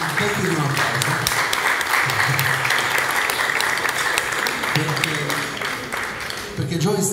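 An audience gives sustained, loud applause for a guest at a celebration of a music magazine's 25th anniversary, steady clapping that fills the space and fades slightly toward the end, with a voice briefly underneath.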